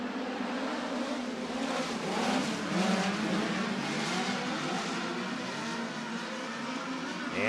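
USAC midget race cars accelerating from the start at Merced Speedway: a dense, steady engine roar from a pack of cars, loud and sustained with no talk.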